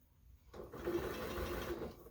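A sewing machine stitching quilt pieces runs in one steady, close burst of about a second and a half, its rapid needle hum rising and stopping cleanly with no talk over it.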